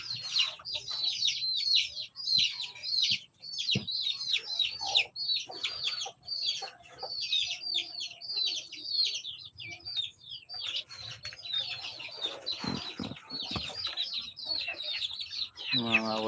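Chickens cluck and chatter in rapid bursts nearby on a Filipino backyard flock, with sharper calls and some rustling breaking in and someone speaking briefly toward the end.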